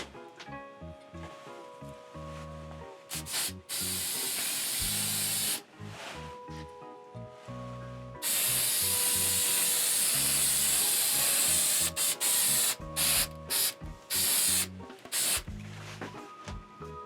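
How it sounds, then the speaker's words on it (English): Bursts of crystal clear acrylic spray hiss from a can onto a Christmas ornament, several long continuous sprays with short pauses between, close and fairly loud. "we're going to spray it with some crystal clear acrylic"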